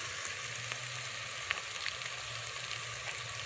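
Beef keema frying in a pan with turmeric powder, a steady close sizzle with faint crackles and small pops throughout, no talking.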